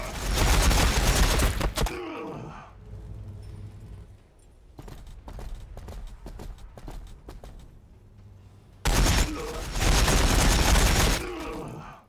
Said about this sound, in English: He's decided it's time to go crazy and just open fire with everything he's got.